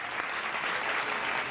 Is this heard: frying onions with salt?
no